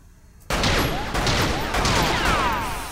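Rapid pistol shots from two handguns fired at once in the VR shooting game Lethal VR, a dense burst of loud overlapping cracks starting abruptly and continuing without pause.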